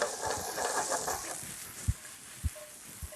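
Shallots and fresh tomatoes sauté in olive oil in a pan, a steady close hiss and sizzle with a few soft knocks underneath, no talking.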